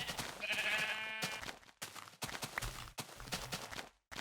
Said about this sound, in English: Oh, look at all these sheep.